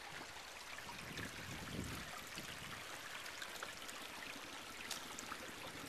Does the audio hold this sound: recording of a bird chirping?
no